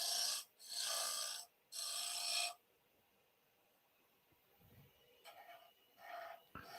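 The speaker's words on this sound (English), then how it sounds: "sometimes it's easier just to scrape them clean" A spindle gouge scrapes wood on a lathe in three short, raspy strokes in close succession, followed by quiet scuffing and faint handling noises.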